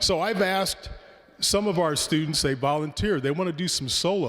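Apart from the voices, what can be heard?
None of the usual background noises is heard.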